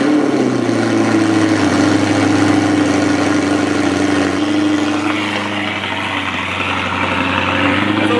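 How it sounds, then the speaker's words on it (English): A manual sports car engine fast-idles after a cold start inside a garage, a loud, steady droning hum close by with no talking. "So we're gonna get a cold start up."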